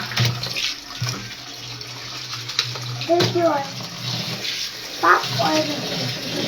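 Running tap water splashes while a ludus is washed, a loud, uneven gush with a few sharp clatters, and people talk over it.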